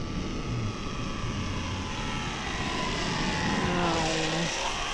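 An Air Tractor 1.5 m RC model airplane makes a slow pass into the wind, its propeller and motor giving a steady, fairly loud drone whose pitch shifts slightly as it flies by.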